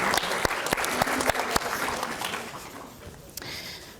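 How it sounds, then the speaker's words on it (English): An audience applauds volunteers during a talk on kids and big emotions, with steady clapping and a few sharp, close individual claps standing out before the sound tapers off. "Let's give our volunteers a round of applause."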